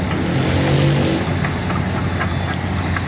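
A car stuck on a muddy road under construction revs its engine hard, a loud mid-pitched roar that swells and holds over a few seconds with no one speaking.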